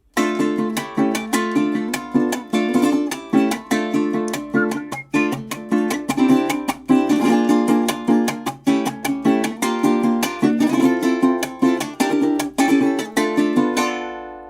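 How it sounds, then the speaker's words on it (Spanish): Venezuelan gaita zuliana music: lively plucked string strumming in a bouncy, syncopated rhythm, bright and close, with steady percussive accents carrying a festive folk groove. "Y la gaita zuliana suena algo así."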